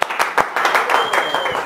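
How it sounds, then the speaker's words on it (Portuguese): Audience applause at a drag show battle, a loud burst of clapping with sharp peaks at the start that settles into steady, dense clapping, with a voice faintly under it. "Uma salva de palmas."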